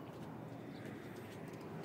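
Pigeons cooing faintly at a rooftop loft, soft low coos amid a dense, noisy background, brief and distant.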